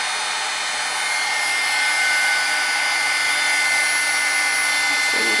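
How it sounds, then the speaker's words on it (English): Embossing heat tool blowing hot air over a stamped Valentine's Day postcard, a steady close whoosh and whine that holds without a break for several seconds, with no talking over it. "Okay, so I'm going to use my heat tool really fast."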